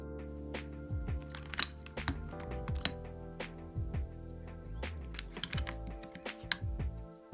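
EMLab and clear keycaps are swapped on a Nuphy Field75 HE magnetic keyboard. Sharp plastic clicks and taps come at an irregular pace, close up, with soft background music underneath.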